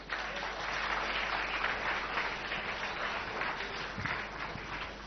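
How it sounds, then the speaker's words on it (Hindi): An audience at a school inauguration ceremony in Raigarh gives loud, sustained applause for the district collector, a dense, steady wash of clapping hands throughout. "इनके लिए भी जोरदार तालियां।"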